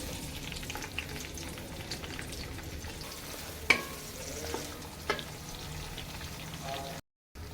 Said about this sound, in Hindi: हमने कढ़ाई के अंदर 1 कप ऑयल ले लिया, इसमें प्याज ऐड कर देंगे